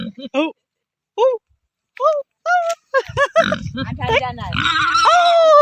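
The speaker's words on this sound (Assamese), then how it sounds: "এইটো বগা গাহৰি এবাৰ প্ৰথম দেখিছোঁ" Several grunts from a white pig come in short separate bursts, then louder overlapping grunting and squealing builds to a dense, continuous noise.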